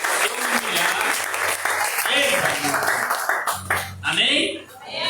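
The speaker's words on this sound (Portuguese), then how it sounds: "Aplauda ele bem forte." Congregation applauding strongly during a Pentecostal deliverance service in a church, loud continuous clapping mixed with voices and music throughout.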